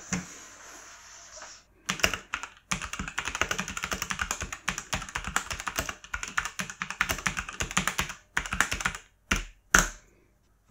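Steady, rapid typing on a SaharaGaming R20 mechanical gaming keyboard with brown-style switches: tactile, muted clacks, running continuously with a few brief pauses, close and clear.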